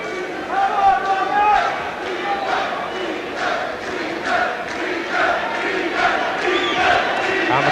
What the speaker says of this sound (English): And the crowd now getting behind the local hero